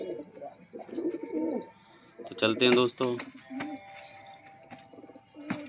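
Pigeons, including the mate of a white one, scuffle and coo up close, with bursts of wing flapping among throaty calls while someone talks over them.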